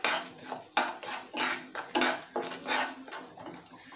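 A spoon stirs cardamom powder into melted jaggery syrup in a pan for sesame laddoos, giving about seven rhythmic scraping strokes against the metal, close and steady with no voices.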